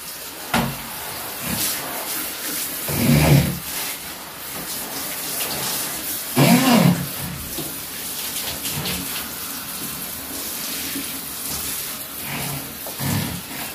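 Bathroom being washed: water runs from a tap or shower in a steady faint stream, with a few louder splashing gushes as it hits surfaces, close by and no talking.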